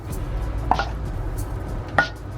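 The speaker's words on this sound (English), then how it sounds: "before putting the broccoli into the pasta, I just break it up a little bit like this" A spoon breaks up cooked broccoli among pasta in a container, giving two sharp knocks against the dish about a second apart, close over a low background hum.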